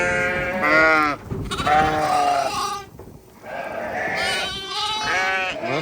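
Ewes and lambs let out onto a solar-site pasture bleat repeatedly, several overlapping calls near and loud, with short pauses between bursts.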